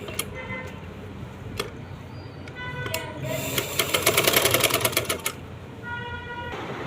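A sewing machine stitches fabric right alongside a buckram edge while making a simple kameez, producing a fast, steady mechanical rattle that builds to a loud burst in the middle, with scattered clicks before and after.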